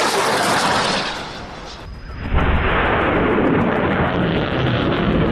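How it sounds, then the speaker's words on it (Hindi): Several rockets fired at once in a militant attack on an Israeli army position produce a loud, continuous roaring rush that dips briefly and then surges back, with no talk. "जिसमें कई रॉकेट्स एक साथ फायर होते हुए नजर आ रहे हैं।"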